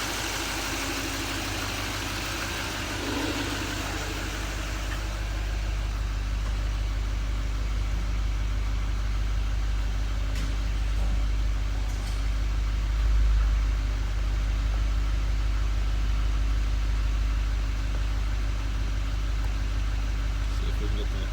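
A 2016 Chevy Silverado 3500 Duramax diesel, dual rear wheel LTZ 4x4, idles with a steady deep rumble and a constant low hum, close and unchanging throughout.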